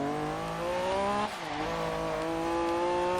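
A turbocharged Honda NSX engine in Forza Horizon 3 whines steadily at high revs, its VTEC dipping briefly as the tires break loose, then climbing again.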